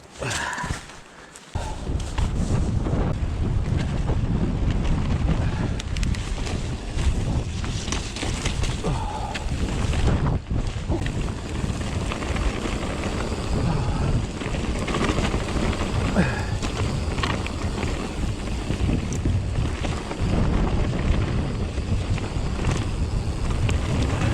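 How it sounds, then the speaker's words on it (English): Steady wind gusting across an open rocky trail in Castle Valley, South Wales, a continuous broadband rush lasting throughout, with faint footsteps underneath. "Still windy this side as well"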